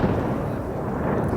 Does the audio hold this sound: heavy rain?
no